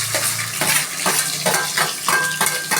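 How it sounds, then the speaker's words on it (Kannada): Steady sizzling of onions frying in a pan with cardamom, fennel and bay leaf tempering for tomato bath, with repeated scraping and stirring strokes and occasional clinks of a utensil against the pan. "2 ಈರುಳ್ಳಿ ಚೆನ್ನಾಗಿ ಫ್ರೈ ಮಾಡಿ ಫ್ರೆಂಡ್ಸ್. ಚೆನ್ನಾಗಿ ಫ್ರೈ ಆಗಲಿ."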